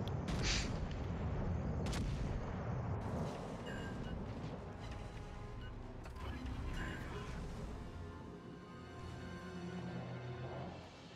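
Ship secondary battery guns firing in the naval combat game World of Warships, a loud, dense stretch of continuous booming and rattling gunfire with mechanical clanks layered throughout.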